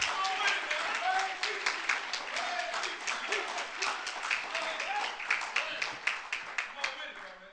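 An audience claps in steady, dense applause under a speaker's amplified voice, and the clapping swells near the end.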